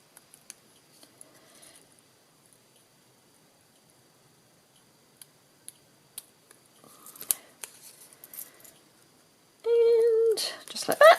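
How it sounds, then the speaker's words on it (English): Scissors trimming the ends of a laser-cut card strip, a few faint sparse snips and paper rustles, then a louder burst of cutting and handling near the end. "And then trim the ends, both sides, or both ends I should say."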